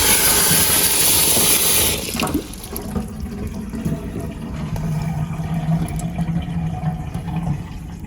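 Water rushes from a tap into a basement bar sink, then the flow stops and the basin drains with a steady low gurgle, close and fairly loud.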